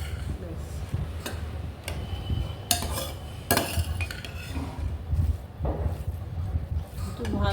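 Spoons and cutlery clinking against dishes during a meal of rice with coconut prawn curry, with irregular light taps and scrapes close by and soft voices in the background.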